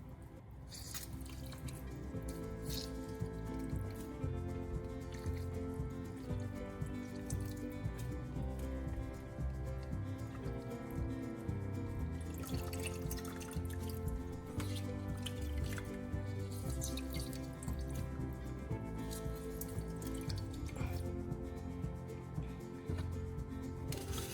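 Water drips and squelches as wet boiled toilet paper pulp is squeezed by hand into a tray, a steady close wet patter under a constant background hum with a few louder bursts.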